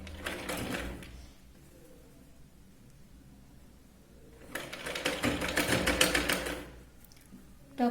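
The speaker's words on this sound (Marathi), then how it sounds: "इथे सरळ शिलाई लावून घ्यायची" A sewing machine running straight stitches on a Katori blouse yoke, heard as two close bursts of rapid mechanical whirring separated by a quiet pause, with no talking.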